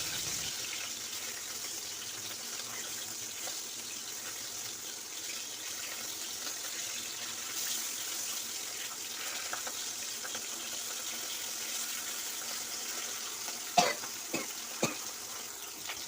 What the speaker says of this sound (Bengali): মাছগুলোকে আমি হলুদ মরিচ লবণ দিয়ে ভালোভাবে মেখে এটাকে ভাজার জন্য দিয়ে দিলাম প্যানে